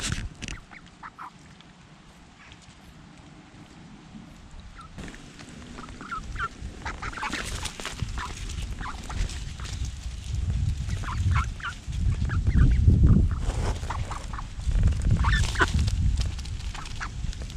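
Ducks feeding on the River Wye, with repeated quacking and splashy dabbling that grows louder and busier toward the end, close by over steady outdoor river noise.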